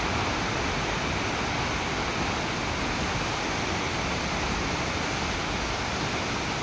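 Water rushes loudly and continuously at an NIA dam, a dense steady roar with no pauses or voices over it.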